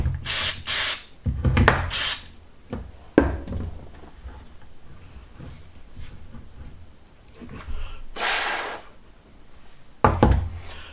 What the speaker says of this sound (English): we'll clean this thread, a little bit of brake cleaner.